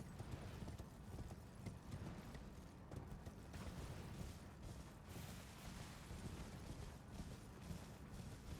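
Horse hooves clip-clop at a steady riding rhythm in the video game Elden Ring, a faint, repeating patter beneath a dense low rumble of game sound.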